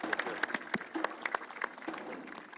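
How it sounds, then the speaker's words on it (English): Audience applause rings out at the official draw ceremony for the 2019 Total Africa Cup of Nations, a dense, steady wash of many hands clapping with a few sharper nearby claps standing out throughout. "A round of applause for the legend"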